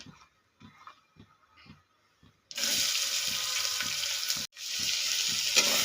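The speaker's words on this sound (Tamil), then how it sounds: "வெங்காயத்தை நல்லா வதக்கிக்கலாங்க வெங்காயம் நல்லா வதங்கட்டும்" Onions for a chicken curry stirred and fried in a pan, a few quiet scrapes and then a loud, close, steady sizzle that breaks off briefly and returns.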